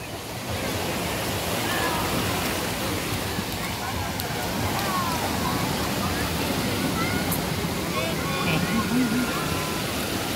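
Continuous rushing surf of ocean waves with wind noise, loud and close, washing steadily throughout.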